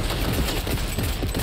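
Dense, sustained gunfire from the player's weapon in the Cyberpunk video game, a loud continuous burst of rapid shots with no talk over it.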